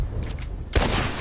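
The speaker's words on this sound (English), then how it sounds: "As soon as you pull your weapon and aim, we let fly." A sharp, loud burst of gunfire erupts in a Red Dead Redemption 2 shooting contest, preceded by quieter ambient game sound and followed by a ringing, reverberant tail.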